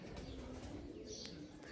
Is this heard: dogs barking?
no